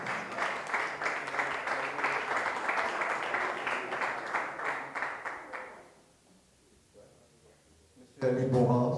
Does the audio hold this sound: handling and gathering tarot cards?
no